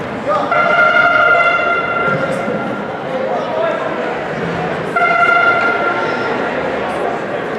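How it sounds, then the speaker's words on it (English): A loud, blaring air horn sounds twice in long sustained blasts over the roar of an arena crowd at a prep-school ice hockey game. "And there it is, the air horn."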